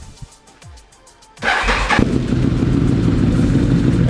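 An ATV quad engine cranks with a few short ticks, then catches and settles into a steady, rough idle after de-swamping, running close and fairly loud.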